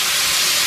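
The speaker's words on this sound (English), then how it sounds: "just adding the first batch back into the pan." Pork pieces going back into a hot pan, a bright, even sizzle holding loud and close for a brief moment, with no talk.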